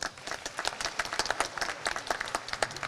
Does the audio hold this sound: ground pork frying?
no